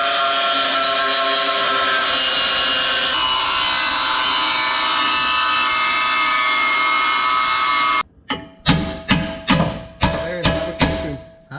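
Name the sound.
power tool cutting metal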